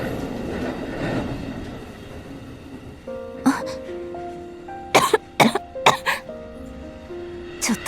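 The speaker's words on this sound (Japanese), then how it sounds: "ちょっとした匂いでも咳が出ちゃう。" Repeated coughing from a woman with a lingering chronic cough, several close, loud bursts in quick succession after a quieter start with background rumble.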